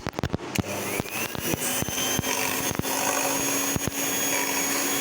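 A hand blender whisking hung curd with sugar for mango shrikhand: a steady high motor whir running throughout, with sharp clicks and knocks of the blade against the bowl, close and alone.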